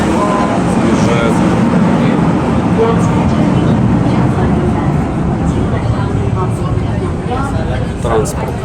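Inside a Hong Kong train, a continuous loud rumble of wheels and carriage noise runs throughout as the train moves along the track. A voice talks over it the whole time.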